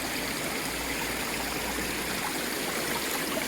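A stream flowing through an Italian village gives a steady, even rush of water, moderately faint and continuous, with no voices over it.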